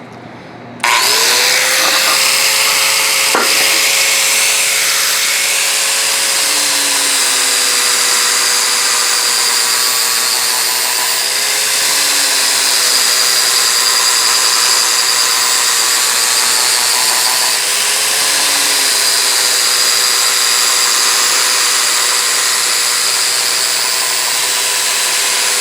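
Angle grinder with a Blendex pad finishing stainless steel, starting with a spin-up and then holding a loud, continuous high whine close by, the pitch dipping slightly now and then under light pressure, with no voices.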